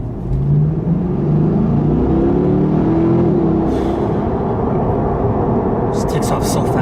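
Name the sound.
C8 Corvette accelerating hard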